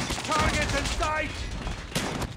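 Rapid gunfire bursts from Call of Duty on the Nuketown 2 map, moderately loud, with brief tonal game effects and a voice shouting between shots.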